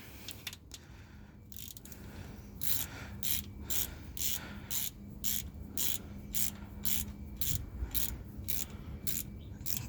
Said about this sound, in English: we're gonna go ahead and get our ratchet